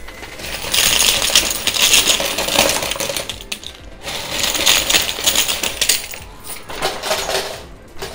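A high-limit Tumbling Towers coin pusher arcade machine shoves coins along, sending bursts of metallic clinking and jangling coin drops in two or three loud waves separated by brief lulls, with no talk over it.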